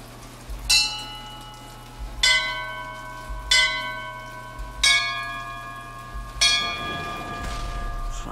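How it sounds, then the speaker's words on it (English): Church bells in Bioshock Infinite ring out in five separate clangs, each a bright struck tone with a long ringing decay, spaced roughly every one and a half seconds over a low steady hum and soft rain-like background. "Use the bells."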